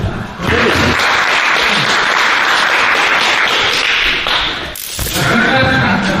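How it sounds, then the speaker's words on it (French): A room applauds after a self-defence drill against a pistol threat, a loud burst of clapping that swells right away, dips briefly near the end, then picks up again. "On peut t'applaudir."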